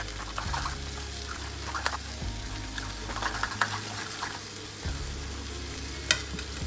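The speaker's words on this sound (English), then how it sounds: "I'm gonna mix all of these ingredients together" Vegetable lasagna filling seasoned with salt and pepper being stirred in a pan, a faint sizzle under scattered scraping and clinking of the utensil, close and quiet.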